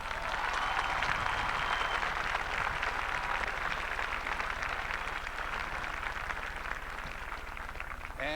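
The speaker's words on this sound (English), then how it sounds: "Now a round of applause for all of them." Crowd at a 1995 Cortland State graduation ceremony applauding the graduates, a steady, dense wash of clapping from many hands sustained evenly for about eight seconds with no break.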